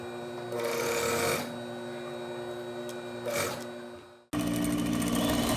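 A sewing machine sews a half-inch seam along a skirt waistline, running in close, fairly loud bursts with a steady whirring motor, a brief stop, then starting again without any talk.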